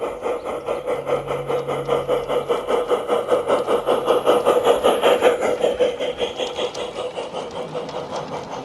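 A diesel engine runs on a railway with a steady, harsh, pulsing chug at a moderate level that holds evenly throughout.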